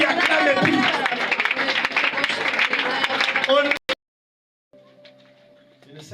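A church congregation applauds loudly and steadily, a dense wash of clapping mixed with voices that cuts off abruptly, followed by quiet speech.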